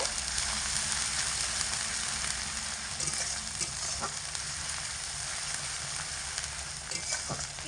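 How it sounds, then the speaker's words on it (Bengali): Onion paste fries with a soft, even sizzle, broken by occasional faint scraping or stirring clicks. "পেঁয়াজটাকেও হালকা একটু ভেজে নেব"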